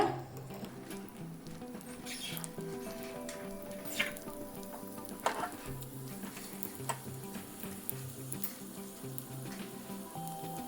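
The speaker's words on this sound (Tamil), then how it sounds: "நம்ம திராட்சை நல்லா வறுபட்டுருச்சு." Raisins fry in ghee for rava ladoo, giving a soft, steady sizzle with small pops and crackles scattered throughout, close and quiet, with a faint musical tone underneath.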